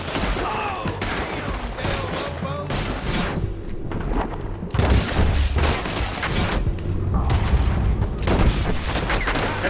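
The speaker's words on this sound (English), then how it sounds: "Let them have it, boys! Right. Let's do some shooting." A town shootout in Red Dead Redemption 2 erupts in rapid, loud gunshots and booming volleys, dense bursts of fire overlapping close by with a brief lull before another heavy barrage.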